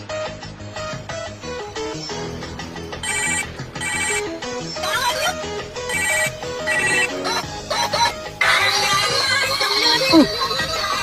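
A repeating electronic ringtone chimes in bursts over busy background music and clatter, fairly loud and close.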